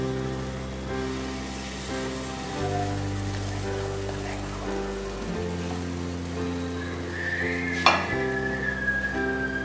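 Pancake batter cooking in a pan over low gas, a continuous soft frying sizzle with light crackles, a brief sharp clink near the end, and faint background hum.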